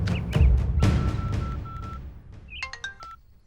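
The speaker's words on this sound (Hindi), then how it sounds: "एसीपी को फोन लगा।" A telephone call placed to a police officer in a Hindi-dubbed South Indian action political drama: short dialing tones, then a repeating ringback pattern, heard clearly with a low rumble underneath and no speech.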